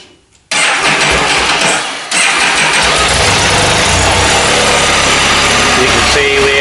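A Can-Am Spyder F3 engine cranks briefly, then catches and settles into a loud, steady idle close by. There is a short dip in sound before the engine holds its even running note.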